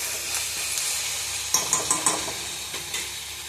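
Moringa leaves fry in a pan with a steady hiss and sizzle, close by, and a few quick stirring scrapes or pops clustered midway, with no talking.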